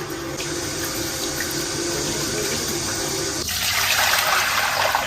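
Tap water running hard into a sink as pork intestines are rinsed in a home kitchen, a steady rushing splash that grows louder and brighter partway through, close up with no voices.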